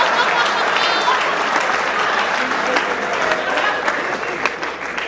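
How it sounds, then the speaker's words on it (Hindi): An audience at a mushaira poetry gathering in Sonipat breaks into sustained, dense applause. The clapping fills the whole stretch at a steady, fairly loud level. "इस लाइन पर तालियां बजाइए, अच्छी लाइन थी।"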